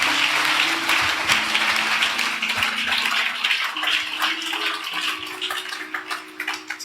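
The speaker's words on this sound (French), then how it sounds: "Put your hands together for the Lord." A church congregation claps for the Lord, a dense, sustained wash of applause that fills the room, with a sustained tone ringing underneath.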